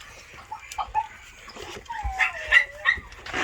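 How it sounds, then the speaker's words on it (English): A mother dog with her puppies makes soft whimpers, yips and a drawn-out whine, close and fairly quiet, in short irregular bursts with faint handling noises between. "Here's Kira with puppies."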